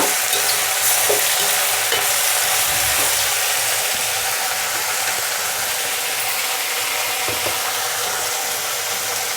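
Brinjal pieces, raw lablab beans and tomato pieces sizzle loudly in a pan with a dense, steady hiss. A utensil scrapes and clatters now and then as the mix is stirred, and no one talks.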